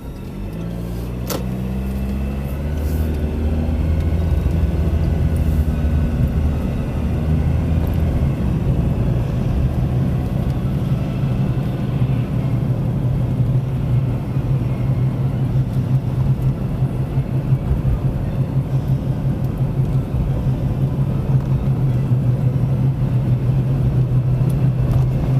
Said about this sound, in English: We're now just about to do a quick drive through Haddington in East Lothian.